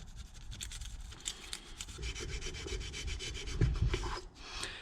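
Steady rasping strokes of a stone rubbing RTV sealant off the flat surfaces of a Raptor 350 engine cylinder head, close and continuous with uneven rhythm and a few harder scrapes.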